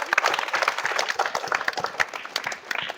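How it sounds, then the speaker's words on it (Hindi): Applause for a schoolboy reciting a poem at a government school in Bihar, a short burst of brisk, close hand clapping from a small group, dense and lively, tapering slightly near the end. "ताली बजा दो इसके लिए।"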